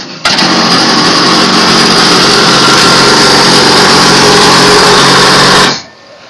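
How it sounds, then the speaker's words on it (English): Headlight motor of a 1999 Pontiac Firebird running on a failing replacement gear, giving a steady, loud mechanical whir with a grinding buzz that holds evenly for about five seconds before cutting off. "That's the sound the gear I put in 9 months ago makes."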